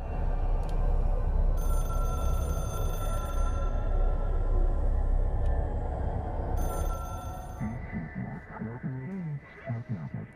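A telephone rings inside the video game Control, repeated bright bell bursts over a dense, droning ambient game soundscape, with a muffled voice appearing near the end.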